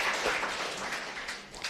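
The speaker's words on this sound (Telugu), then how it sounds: "చప్పట్లు కొట్టండి గట్టిగా" A church congregation claps loudly together, a dense, steady wash of many hands from a crowd sustained for a couple of seconds.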